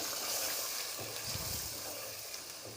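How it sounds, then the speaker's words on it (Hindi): Chicken pieces fry in a pan with yogurt stirred in, giving a continuous close sizzle with faint stirring scrapes underneath; no one talks. "जब तक मुर्गी भून रही है, भून रहा है।"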